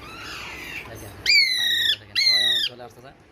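Two loud, harsh squawks from Alexandrine parakeet chicks in quick succession, close by, each lasting about half a second, with quieter chatter before and after.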